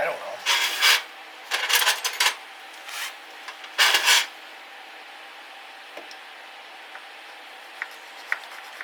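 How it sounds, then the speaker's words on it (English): A hand file rasping at a burr inside a Homelite SXL925 chainsaw with a bad new piston: several short bursts of scraping strokes, then a quieter stretch with a few small ticks. "So I'm just gonna give it a quick file job here."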